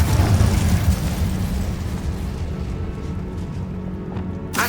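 A Confringo explosion spell bursts in Hogwarts Legacy, a loud booming blast with heavy low rumble that decays over several seconds, ending in a short sharp crackle.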